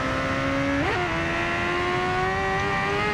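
Kawasaki Ninja ZX10R 2015 sport motorcycle holding a high steady engine tone, then shifting with a brief dip before pulling smoothly upward again, loud and near without speech.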